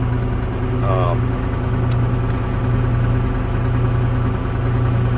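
An Allis Chalmers tractor engine of about 70 horsepower idles steadily while warming up, a constant low mechanical drone that holds at an even level from start to finish.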